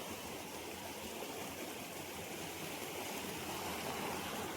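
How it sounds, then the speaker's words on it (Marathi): Steady rushing and trickling of flowing water, continuous and fairly close, with no voices. "आता ह्या एक्स्ट्रा पाणी तिकडे जाणार आणि बाकीचा इकडे"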